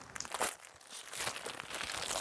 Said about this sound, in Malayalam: മീഷോ എന്ന് പറഞ്ഞിട്ടുള്ള ഈ പാക്കറ്റ് അൺബോക്സ് ചെയ്യാം.